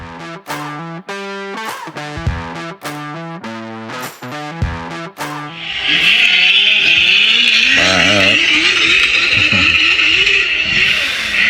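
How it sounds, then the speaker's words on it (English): An engine revs hard and repeatedly bangs off the rev limiter in choppy stuttering bursts, followed by a loud, sustained roaring rush of engine noise. "Banging off the rev limiter."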